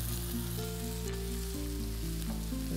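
Continuous loud sizzling of a fish fillet frying in a pan, a dense steady crackle with no voices.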